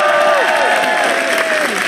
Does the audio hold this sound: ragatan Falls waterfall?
no